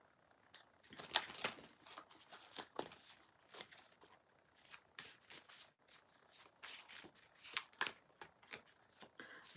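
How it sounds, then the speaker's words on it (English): Tarot cards shuffled by hand in repeated quick riffling bursts with short pauses, crisp papery flutters close to the microphone, quiet and with no talking. "let's give these cards a shuffle."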